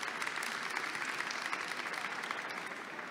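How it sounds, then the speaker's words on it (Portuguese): Applause from an audience at a book fair session, a dense, steady wash of many hands clapping at moderate distance, sustained without a break and with no voices on top. "Palmas."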